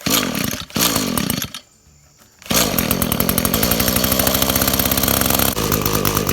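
A small two-stroke string trimmer engine with a failing carburetor revs roughly and sputters, cutting out briefly to near silence before roaring back up, loud and close.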